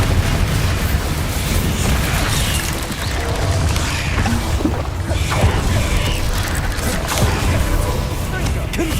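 Blasts from the Bombarda spell in Hogwarts Legacy: booming magical explosions over constant, busy combat noise, loud throughout, with a voice calling out spell names.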